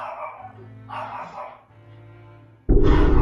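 A dog barks in a few separate bursts, with a louder, denser stretch of barking at the end; no talk is heard.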